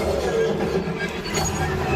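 Heavy, continuous low rumble of a train rolling along rails on the Millennium Falcon: Smugglers Run ride at Hollywood Studios, steady and loud throughout with a faint metallic squeal near the end.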